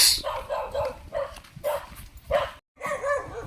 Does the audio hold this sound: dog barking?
yes